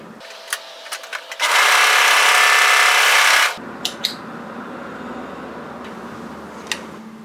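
An overlocker runs in one steady burst of about two seconds, serging a fabric edge at close range, with light clicks and handling sounds before and after it and no talking.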